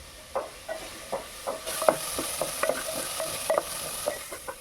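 Chopped tomato and half a spoon of turmeric sautéing in a pan, with a soft sizzle and regular scraping stirs of a spoon, close and fairly quiet.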